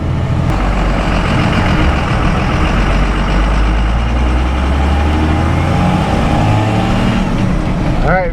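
A pickup truck drives along a road after an engine boost fix, its engine droning loud and near throughout with road noise, rising slightly in places.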